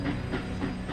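A cartoon train runs on the Orient Express, its wheels giving a quick rhythmic clickety-clack with a hissing rush over a low rumble, fairly close, with no voices.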